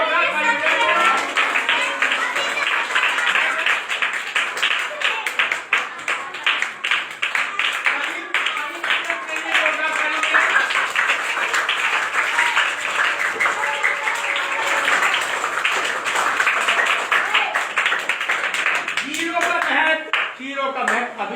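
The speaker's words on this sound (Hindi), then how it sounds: "वेरी गुड, जोरदार ताली बजाइए।" A classroom of students claps loudly in a sustained burst of dense, uneven hand claps that runs for about twenty seconds, thinning briefly near the end, with a voice heard in places.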